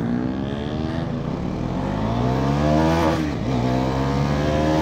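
Bajaj Pulsar NS400z motorcycle accelerating hard in a drag race against a Yamaha R15 v4, a loud steady engine drone with rising harmonic pitch that dips briefly near the middle, as if from a gear shift, then climbs again.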